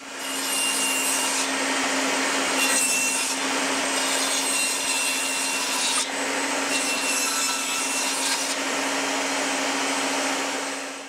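Corners of a wooden marking jig are cut out with a loud, steady power-tool whine and rasping cut, held almost continuously with brief dips in pitch, close up and without speech.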